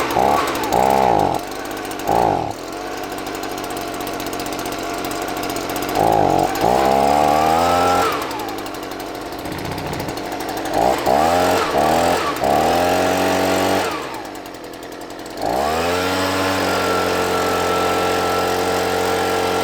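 Stihl BG55 handheld leaf blower engine, pulled repeatedly with the choke half set until it fires, giving rising revving bursts between pauses before it settles into a loud, steady two-stroke idle.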